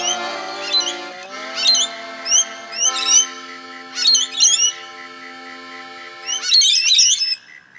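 Several birds sing near and clear with bright, repeated chirps and trills. They come in short bursts over a steady backing of sustained musical tones, with no talking.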